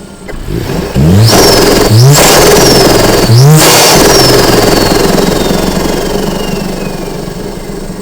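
A close, loud Mercedes-AMG A45 S engine with an induction kit blips twice sharply, then holds a high revving roar that slowly settles, with a whooshing intake and fading turbo whistle.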